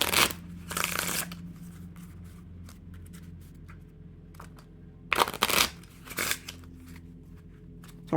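A new deck of Theory11 Yellowstone playing cards is shuffled in two short riffle bursts several seconds apart, close and crisp, with quiet handling rustles between them.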